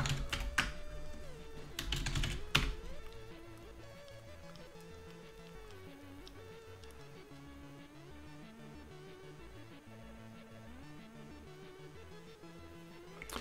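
Keys clack on a computer keyboard at a Linux machine in quick bursts near the start, then a faint, steady background continues alone.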